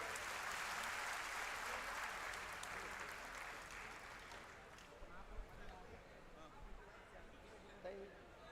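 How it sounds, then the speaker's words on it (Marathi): Loud applause from a crowd at a political rally fills the opening seconds, then fades into a murmur of voices and scattered noise. "त्यांचं स्वागत करा जोरदार टाळ्या"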